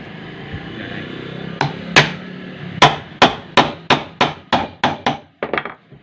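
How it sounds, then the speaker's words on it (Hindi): A hammer drives a ceiling fan part into place with about a dozen sharp, close metallic knocks: two spaced taps first, then a quick steady run of blows that fades at the end. "अब दोस्तों हमें इसे ठोककर वैसे ही कसना है।"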